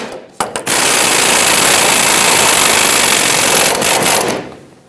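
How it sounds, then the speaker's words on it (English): An impact wrench with a 24mm socket tightens the Pitman arm nut on a 2007-2014 Chevrolet Silverado 2500 HD, opening with a few short bursts, then a loud continuous rattling hammer that runs for several seconds before winding down. "Let's tighten up the Pitman arm nut."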